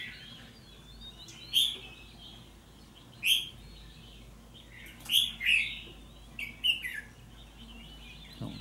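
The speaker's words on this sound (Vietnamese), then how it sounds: "Đây là giọng chim mộc 20 ngày lồng" Several short, bright, ringing phrases from a wild-caught red-whiskered bulbul, caged 20 days, with pauses between them, clear and fairly close over a quiet background hum.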